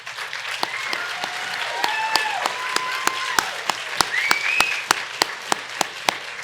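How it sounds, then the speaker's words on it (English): A crowd at a technical college capping and pinning ceremony applauds as instructors stand, giving a steady bed of clapping punctuated by sharp, regular close claps, with faint voices murmuring and a brief tonal whistle-like sound partway through. "just so I can get a round of applause"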